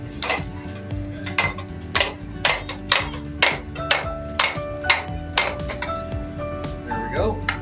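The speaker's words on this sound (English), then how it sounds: "So I'm going to use the other end of my hammer once I get hot again." A blacksmith hammers hot metal into a shovel at a steam engine show: a steady series of sharp, ringing metallic strikes roughly every half second, close and loud, with a brief tonal ring near the end.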